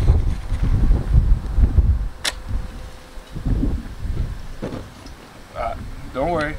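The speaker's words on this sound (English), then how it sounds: "So that's how heavy the wind is tonight." Strong night wind blowing outdoors where traditional Yakama bread is being made, a low rumbling buffet against the microphone beneath people talking nearby.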